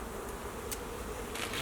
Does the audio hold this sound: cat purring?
no